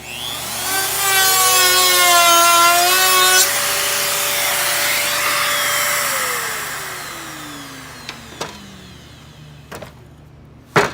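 Festool saw with a TSO guide cutting a wooden tenon: a loud, close whine rises as the motor spins up, holds through the cut for several seconds, then winds down and fades, followed by a few sharp knocks.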